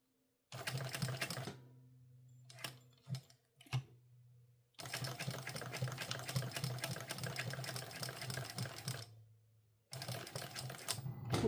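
A sewing machine stitches a fabric sling bag in bursts, a fast mechanical rattle running for a second, pausing, stuttering briefly, then a long steady run and another short burst, close and clear.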